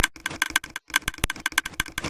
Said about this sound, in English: Now all that clicking is, believe it or not, it's not the redstone torches, it's all the droppers.